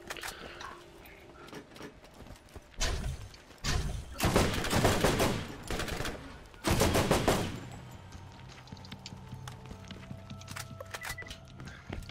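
Bursts of rapid gunfire from a Borderlands sniper fight come in several loud volleys of a second or so each, separated by quieter game ambience with low hums and faint clicks.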